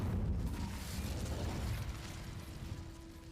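An Incendio fire spell cast in Hogwarts Legacy on PS5: a loud whooshing burst of flame with a crackling roar that slowly fades over a few seconds.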